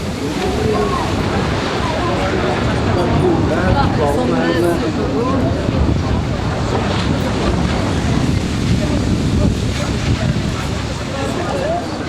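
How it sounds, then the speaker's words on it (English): Strong wind roars and buffets continuously across the whole stretch, loud and close, with gusty rumbling throughout, outdoors by the Barbican in Poland. "Just got very, very, very windy."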